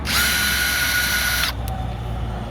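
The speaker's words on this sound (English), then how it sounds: "For this, I'm gonna end up using a power tool because it's really easy." Power drill backing out license plate bracket screws on a 2003 Ford Expedition XLT, a loud whining motor run for about a second and a half that cuts off abruptly, followed by a brief click and quiet outdoor background.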